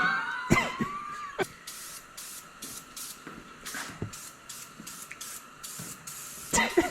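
Short bursts of a spray gun hiss as the rear end of a car is painted in a shop, loud and close and repeated in an uneven rhythm, with a few knocks and clatters in between.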